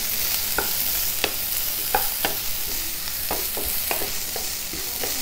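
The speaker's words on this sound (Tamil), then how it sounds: "ஒரு 2-3 நிமிஷம் வதக்கினா போதுங்க." Boiled vegetables for a beetroot curry sautéing in a little oil make a continuous soft sizzle, with regular spoon scrapes and taps against the pan every half second or so.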